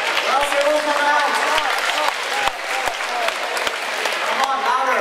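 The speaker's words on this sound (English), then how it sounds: "A round of applause, please." A crowd claps steadily at an event introducing a foodie group, with voices and cheering mixed in over the sustained applause.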